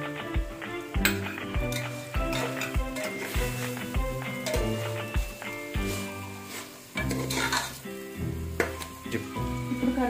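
Soya chunks sizzle and fry in a pan for biryani, with steady crackling and repeated stirring scrapes and clinks of a utensil against the pan; background music plays throughout at fairly even loudness.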